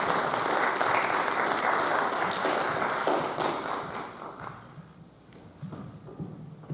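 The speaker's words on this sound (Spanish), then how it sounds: "Un aplauso, por favor." An audience applauds an architect at a planning forum held at a university architecture faculty: a full, continuous round of many hands that gradually thins and fades toward the end.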